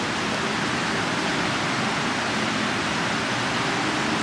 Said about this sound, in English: that waterfall is like a giant sound machine